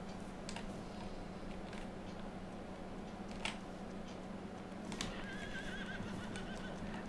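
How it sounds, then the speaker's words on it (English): Horses in Farming Simulator 22 give faint whinnies over a low steady hum, with scattered hoof clip-clops and ticking clicks; quiet and somewhat distant, with no talk. "Okay, so we've got the horses."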